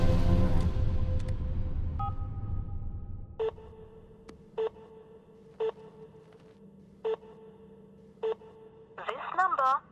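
A phone line rumbles, then a steady dial tone gives way to a series of evenly spaced beeping tones, ending in a warbling electronic chirp.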